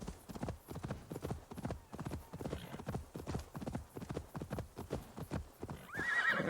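Horse hooves in Wrath of the Druids, a rapid, regular clip-clop of galloping close up, ending in a loud neigh as the ride slows.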